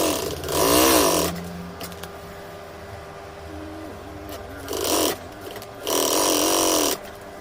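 Electric sewing machine stitching a modern living-room cushion, three short bursts of fast buzzing whir separated by quieter pauses with faint handling noise.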